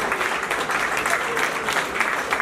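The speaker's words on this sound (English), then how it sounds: "Round of applause, please, for Sir Clive Lloyd, ladies and gentlemen." Dense, steady applause from an audience at a charity fundraising event, filling the whole moment without pause at a fairly close, even level.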